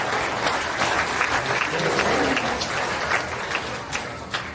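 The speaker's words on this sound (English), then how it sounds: "give all of our commercial steers visitors out here a big round of applause" A crowd gives a round of applause for the commercial steer exhibitors at a county fair beef show, a dense, even wash of clapping that holds steady for several seconds, with no voices over it.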